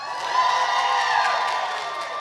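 A live audience at a Randy Havens Q&A cheering and whooping together, a loud, sustained crowd roar that swells and then eases slightly over a couple of seconds.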